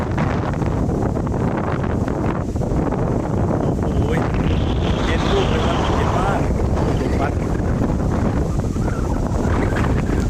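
Cool wind roars steadily across the microphone at a hilltop viewpoint above a tent camping ground, a loud constant buffeting rush that fills the whole scene.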